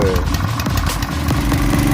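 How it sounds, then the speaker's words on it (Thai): A four-stroke petrol engine drives a 3-inch water pump pumping water into a rice field, running loud and close with a steady, rough chugging idle that carries on throughout. "วันนี้มาสูบน้ำเข้านา นะครับ เครื่องยนต์เบนซิน 4จังหวะ7แปลง3 นิ้วนะครับ"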